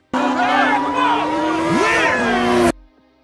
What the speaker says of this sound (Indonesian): Film dibuka dengan sebuah aksi balapan liar